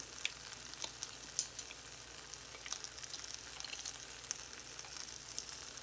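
An egg omelet cooks in a pan with a faint, steady sizzle, broken by a few soft clicks of stirring.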